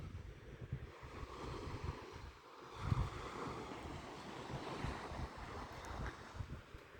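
Atlantic Ocean surf and wind below steep Cape Cod sand dunes make a continuous broad rush, with a soft swell in the middle as a wave breaks in the distance.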